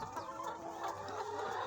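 Laying hens in a young flock, about six weeks into lay on a farm, cluck steadily together, with overlapping calls close by and no talk over them.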